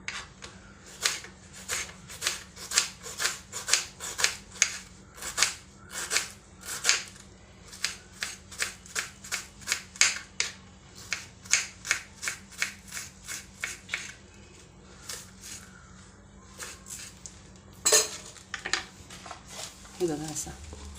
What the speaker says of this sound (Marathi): आता असा बारीक कांदा कापून झाला